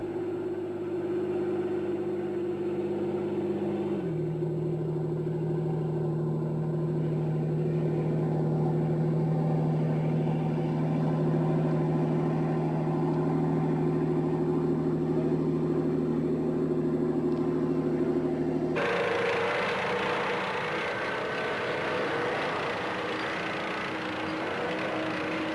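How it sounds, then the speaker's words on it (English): Steady, loud engine drone and rumble of an STRV 103 S-tank swimming through water on its tracks, the tone shifting at about four seconds and turning brighter and harsher near nineteen seconds. "In the water, the tank is propelled and steered by its tracks."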